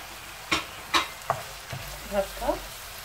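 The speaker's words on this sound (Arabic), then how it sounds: "هاد الفلفله وهاد الجناوح وهاد الخيزو والجلبانه يتشحروا معاه واحد 6-7 دقائق هكا" Peppers, chicken wings, squid and peas for paella sautéing in a pan, a low sizzle broken by several sharp scraping stirs of the spatula spaced about half a second apart.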